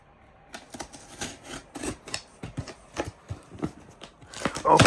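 A parts package from a tuning shop is torn open by hand, close crinkling and ripping in uneven bursts that grow louder toward the end.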